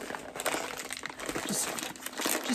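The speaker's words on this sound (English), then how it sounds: "I'm going to go ahead and rip into this" Close crinkling and tearing of packaging in rough bursts, like plastic or paper being ripped open by hand.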